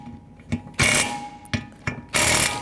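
A ratchet fitted with a 13mm socket snugs the fan clutch bolts on a 1997-2004 Dodge Dakota, giving short bursts of metallic clicking in separate strokes, close and fairly loud, with no talking.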